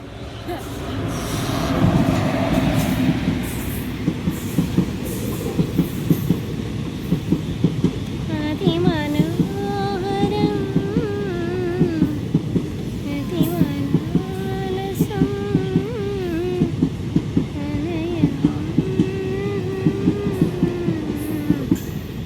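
A train rumbles past with rhythmic clickety-clack from the wheels, steady and fairly loud, with some voices mixed in underneath.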